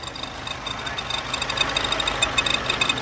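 A running engine idles close by with a steady, rapid ticking knock from inside the timing cover over a broad mechanical hum.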